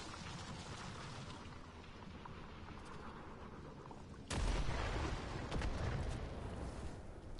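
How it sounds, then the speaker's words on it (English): Warframe combat: a steady, busy wash of gunfire gives way midway to a sudden, loud, booming dropship explosion, followed by a few more rumbling blasts and continued shooting. "they added another explosion to the dropships"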